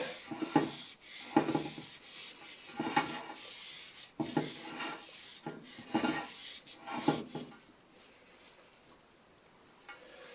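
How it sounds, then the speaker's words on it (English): A BBS RS wheel for an E30 gets wiped down with degreaser, producing repeated close rubbing swipes in a rough rhythm of about eight strokes, then fading to quieter cloth noise, with no talking. "I will wipe the wheel with the degreaser before applying the sealant."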